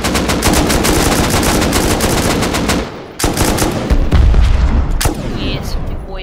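Loud, sustained rapid gunfire from explosive rounds in modded Rust, a dense rattling burst lasting several seconds, then a brief pause before more booming shots and blasts, with some talk in the mix.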